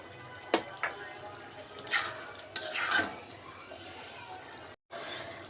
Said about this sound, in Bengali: এখন এখানে দিয়ে দিব আমি ছোট সাইজের 2টা টমেটো